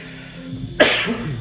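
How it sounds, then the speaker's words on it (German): A single sharp, explosive human cough bursts out after a quiet stretch, loud and close, trailing off with a breathy rasp. "Dieser dreckige Husten"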